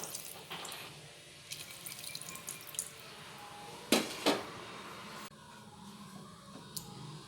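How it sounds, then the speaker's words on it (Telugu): Tamarind juice poured into a brinjal and tomato curry in a pan, with watery splashing and pouring, two sharp bursts of liquid hitting the pan near the middle, then softer trickling and faint clinks, close and fairly quiet. "ఒక 2 మినిట్స్ మగ్గిన తర్వాత చింతపండు పులుసుని యాడ్ చేసేస్తున్నాను"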